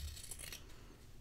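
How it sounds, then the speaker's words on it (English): Fabric scissors snip through a sewn seam allowance, trimming it down, a single quiet close cut with a short crisp blade scrape and no talking. "you're gonna cut down all your seam allowance down"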